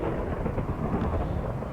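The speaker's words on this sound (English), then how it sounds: "there's a thunderstorm going on in the game right now" Minecraft thunderstorm: a dense, constant roar of rain with a low rolling thunder rumble underneath, steady and fairly loud with no voices.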